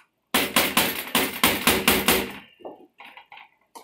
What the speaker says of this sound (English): Just pound it enough to get the tip of your chisel in there.